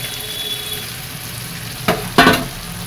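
Marinated tomatoes dropped into a hot frying pan, two quick bursts of loud sizzling hiss after near-silence, close up and without voices.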